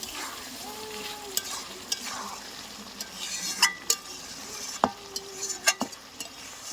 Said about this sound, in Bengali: এই সসের গুঁড়োটা উপর দিয়ে ছড়িয়ে দেব। দিয়ে একটু নাড়াচাড়া করে নেব।